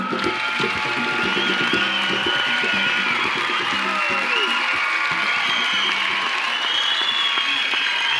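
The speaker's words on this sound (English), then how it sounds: "your hands together now for Carlos Oscar" Steady, dense applause from a comedy club audience welcoming a comedian to the stage, with scattered cheers and whoops through the crowd noise.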